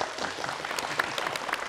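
Studio audience applause on the Vietnamese TV game show Vua Tiếng Việt, a steady dense wash of many hands clapping at even loudness throughout, close and continuous with no talk over it.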